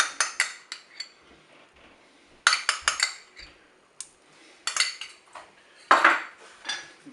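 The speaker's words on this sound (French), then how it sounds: "Je mélange tout ça, bien sûr." A utensil clinks and scrapes against a bowl in quick bursts while honey and mustard are mixed together for a pork roast glaze, short clattering strokes separated by brief pauses, close and fairly quiet.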